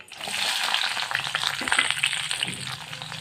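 Onions frying in hot oil with bay leaf and whole garam masala for an egg curry, giving a dense, crackling sizzle broken by soft spoon stirs, close and steady throughout with no voices.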